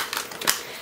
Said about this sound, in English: Shuffling these for Gemini.